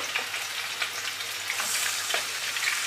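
Curry chicken sizzles steadily in a hot pot, a dense close frying hiss with small crackles and spits throughout, loud and unbroken with no talking.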